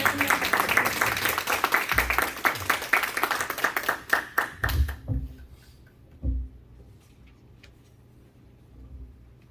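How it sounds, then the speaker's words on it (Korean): A church congregation claps to welcome a missionary to the stage, dense applause at first that thins into scattered individual claps and fades to near quiet, with a few low thumps near the end. "우리 선교사님 나오실 때 박수로 한번 크게 환영해 주십니다"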